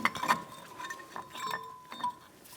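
Metal clips on a new front brake pad for a 2010-2014 Volkswagen GTI clinking against the caliper, a few light irregular metallic ticks and taps close by, no voices.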